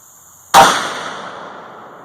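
A single loud .450 Bushmaster rifle shot firing a Hodgdon H110 and Hornady 225 FTX load: one sharp blast, then a long rolling echo that fades over more than a second outdoors, with no voices.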